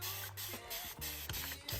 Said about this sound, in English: And now I'm just gonna spray it with some water.